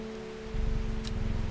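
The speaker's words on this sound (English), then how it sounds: "Does it ever stop raining in Undermere?" Steady rain falls in Strange Horticulture, a soft constant wash that thickens into a heavier, louder downpour partway through, with no voices.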